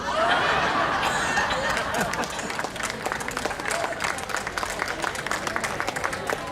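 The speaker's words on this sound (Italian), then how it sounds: "Ancora un applauso a Egidio, con sue barzellette." An audience at an outdoor threshing festival breaks into laughter and warm applause after Egidio's jokes, with dense overlapping clapping and chuckles filling the space throughout.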